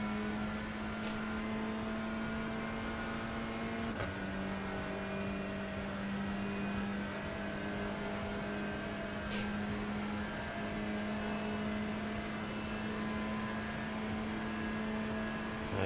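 A touring car engine at Daytona Road in iRacing holds a steady, moderately quiet high-revving drone, with a brief gear shift break in the tone about four seconds in.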